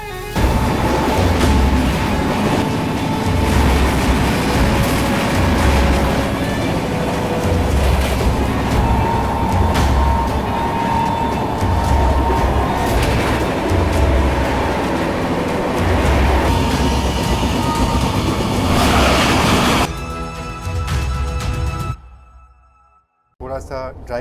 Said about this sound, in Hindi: ट्रेन है ट्रेन नंबर 12556 बिहार संपर्क क्रांति एक्सप्रेस